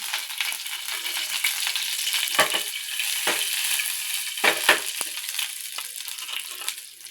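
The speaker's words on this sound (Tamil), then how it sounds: "அதில் கொஞ்சம் எண்ணெய் ஊற்றிக்கலாம். மிளகு போட்டுக்கலாம்." Peppercorns frying in oil in a pan for a fish curry, a steady crackling sizzle with a few scraping stirs and sharper pops, close by with no voices.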